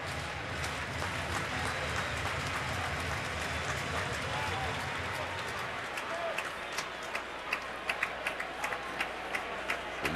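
Crowd noise at an ALCS baseball game: a broad, steady murmur of fans, with scattered claps rising toward the end, heard from a distance under announcer commentary.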